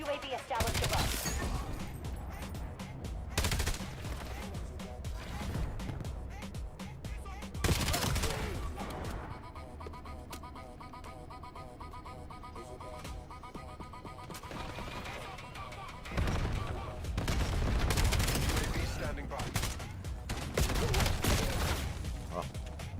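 Gunfire in a Call of Duty match, including an enemy's shotgun, with bursts of shots and impacts coming and going over about twenty seconds, quieter in the middle, under in-game announcer lines and players chatting.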